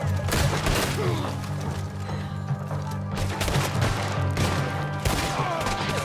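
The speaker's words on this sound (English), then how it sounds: "They are shooting at me." Sustained gunfire in Red Dead Redemption 2: a dense, continuous volley of sharp shots and cracks at close range, overlapping with no pause for several seconds.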